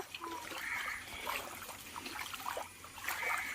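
A shallow stream after rain runs over stones. The water makes a soft, continuous trickle and gurgle at low volume, with no one speaking.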